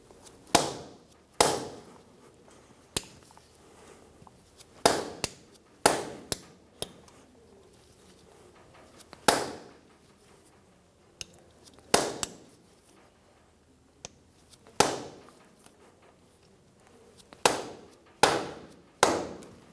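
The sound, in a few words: mallet tapping the end of a Toyota Tacoma half shaft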